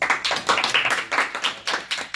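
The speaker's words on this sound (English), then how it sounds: "Round of applause for them." A small classroom audience claps for a student's pong game presentation, with a handful of hands producing an uneven burst of close, fairly loud claps throughout.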